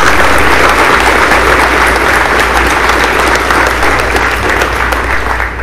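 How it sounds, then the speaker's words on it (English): Senior awards day audience at a high school FFA ceremony claps loudly and continuously, a dense steady round of applause with no voices over it. "so y'all give them a round of applause."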